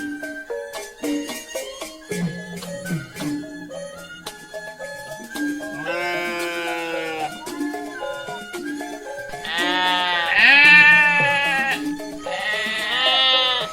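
Cartoon goats at a livestock market let out a string of wavering, nasal bleats, some short and some drawn out, the loudest calls swelling near the end over a quiet backdrop.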